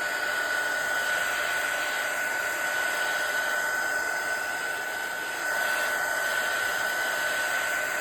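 A heat tool blows with a steady, loud, continuous whir as it dries glue on craft paper for a die-cut junk journal, running alone and without pause.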